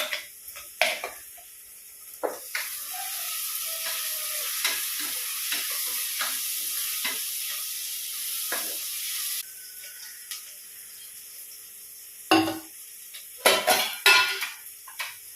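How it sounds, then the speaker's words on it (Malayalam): Fish frying in a pan for a Kerala-style breakfast: a steady, close sizzle runs through the middle stretch, broken by sharp clinks and scrapes of a utensil against the pan at the start and end. "അപ്പൊ നമുക്ക് ഈ അളപ്പത്തെ മീൻ വറുക്കാൻ വെക്കാം"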